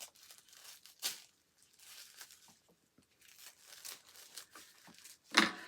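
A plastic-wrapped yarn package holding a skein is carefully cut open. Soft rustling and crinkling build into a sharp, louder tearing crinkle near the end, with quiet gaps between.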